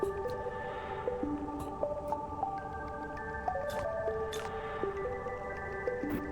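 Dry seed drizzles into water in the video game Sandustry, heard as a steady stream of soft synthetic plinks and tonal blips that step up and down in pitch over a continuous watery bed.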